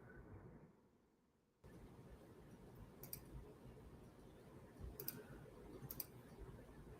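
A computer mouse clicks sharply several times while editing in Photoshop, the separate clicks falling over a quiet room hum.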